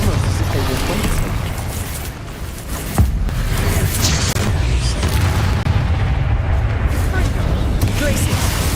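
Spell explosions from the Bombarda and Confringo curses in the Hogwarts Legacy video game boom and rumble continuously at loud volume, with a sharp burst near the middle.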